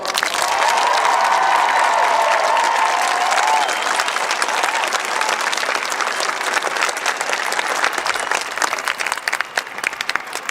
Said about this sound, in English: let me hear you give a round of applause